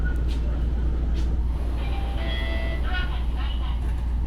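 Hiroshima tram in motion, heard from inside the car: a steady low rumble of wheels on rail with faint squeals and clicks riding over the continuous drone.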